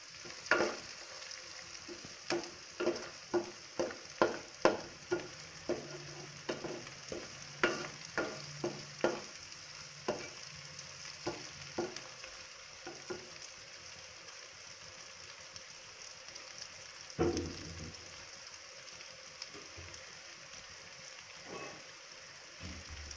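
Onions and green chilies fry in a pan as a spoon stirs them, with repeated scraping strokes in a quick rhythm over a steady sizzle that continues after the stirring slows.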